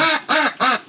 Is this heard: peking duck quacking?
yes